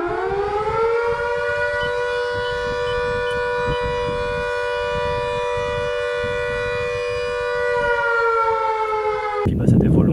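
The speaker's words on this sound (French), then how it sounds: "il y a une grosse sirène d'alarme qui résonne la nuit" A volunteer fire station's large alarm siren in New Zealand wails at night with one long, sustained, loud tone that holds steady before cutting off near the end.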